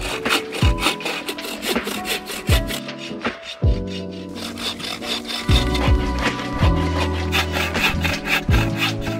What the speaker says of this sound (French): C'est une scie à archet qui est pliable, qui remplace les scies comme ça.